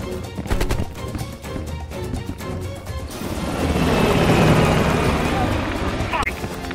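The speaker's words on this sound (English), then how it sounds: "He's climbing into a chopper." Helicopter in the Call of Duty: Black Ops Cold War campaign, a steady rotor and engine roar building to a loud, close peak midway amid busy game sound effects and shouting voices.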